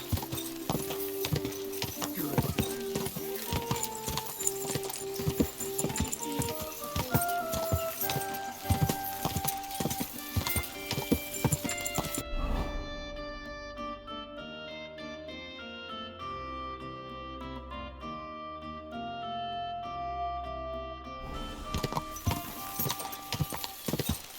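Horse hooves clip-clop steadily in the medieval open-world game Kingdom Come Deliverance 2, rhythmic and close, mixed with game music and a stretch of orchestral tones midway.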